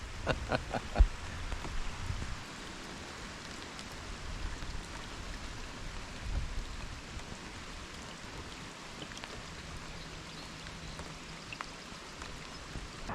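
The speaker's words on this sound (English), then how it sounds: "it's not supposed to be raining right now, but it is." Steady, faint patter of rain falling on a lake, a soft continuous hiss with scattered drips, quiet and outdoors.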